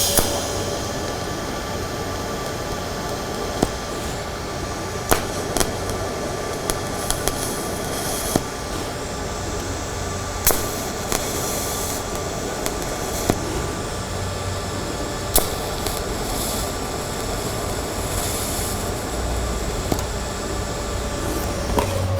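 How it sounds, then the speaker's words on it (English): Welding with filler wire to fill the small divots left by plug welds on a steel T-joint: a steady, close, crackling hiss with sharp arc pops scattered throughout, running continuously with no talk. "And now I'll come back with a little filler wire and just fill in the little divots so you can grind it smooth"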